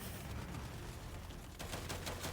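Rapid automatic gunfire in the Gears 5 campaign video game, dense bursts of shots continuing without pause, growing sharper and more distinct in the last second, with no talk over it.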